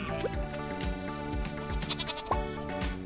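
Repeated goat bleats in Stardew Valley over a steady musical background, several calls spaced through the clip, fairly loud and close.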